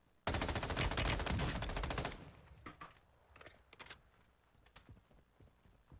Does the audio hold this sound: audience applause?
no